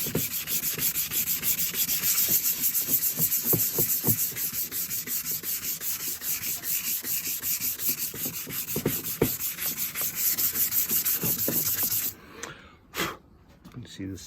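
Hand rubbing down a scratched L322 headlight lens, a close, steady rhythmic abrasive scrubbing that continues for several seconds before stopping, followed by a few brief strokes.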